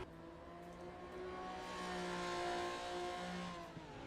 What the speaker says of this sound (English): Which means you want to rev the tits out of it.